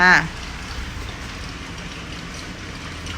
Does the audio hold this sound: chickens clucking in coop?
no